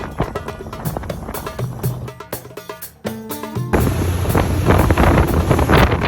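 A motorboat engine drones steadily over rushing water and wind buffeting the microphone on the Red Sea off Hurghada, Egypt, growing louder and rougher halfway through.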